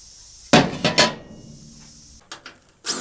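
Sharp metallic hammer blows on sheet metal for a car front seat track support, a quick cluster of three ringing strikes followed by a pause and a few lighter taps, close and fairly quiet.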